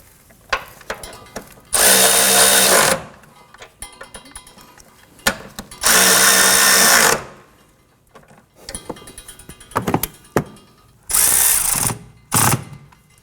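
Power tool driving and tightening bolts on the rear engine torque strut mount of a 2015-2024 Nissan Murano 3.5L V6, in three loud whirring bursts of about a second each, separated by quieter clinks and handling noise.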